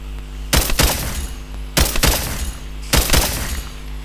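Gunfire in Minecraft, three sharp loud bursts of rapid shots spaced about a second apart, each decaying into a crackling tail over a steady low hum.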